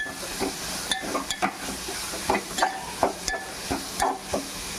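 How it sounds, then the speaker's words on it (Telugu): Ginger garlic paste frying in a pan for a mushroom masala curry, a steady sizzle with repeated stirring scrapes at a regular pace, close up and with no voices. "ఇది కూడా పచ్చివాసన పోయేదాకా ఫ్రై చేసుకుందాం"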